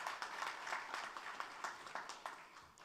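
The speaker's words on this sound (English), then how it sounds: "Big round of applause for that one." Audience applause at the 2023 Secondary Schools Football League launch event, a dense wash of clapping from a crowd that carries steadily through the moment at moderate volume.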